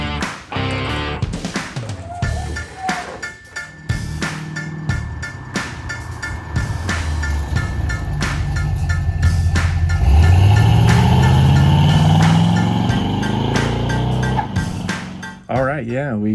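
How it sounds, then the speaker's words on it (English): A Chevrolet El Camino pulls away on a road test after repair, engine note rising steadily as it accelerates, loud and close, with rattles and road noise around it. "take it out for a test drive."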